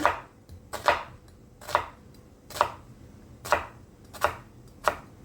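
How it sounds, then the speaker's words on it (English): A knife slicing through an onion on a cutting board, seven crisp evenly spaced chops in a steady rhythm, close and clear with no talking in between. "I'm going to go down the side and just slice."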